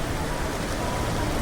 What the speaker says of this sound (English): See, it's dark and the strong rain.